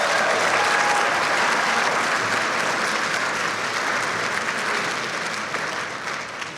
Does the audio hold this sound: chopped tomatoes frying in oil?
no